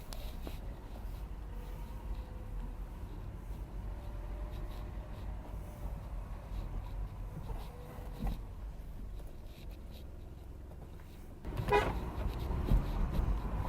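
The horn of a 2016 BMW 118i gives a short honk near the end, over the low rumble of the idling car's interior.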